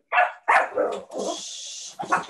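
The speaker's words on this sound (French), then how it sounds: "Désolé pour le chien." A dog barks several times in quick succession close by, loud sharp barks with a brief whine between them, heard alone without talk.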